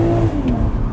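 A 2020 BMW Z4 M40i engine pulls hard on throttle, a loud, close, deep drone that rises briefly for about a second.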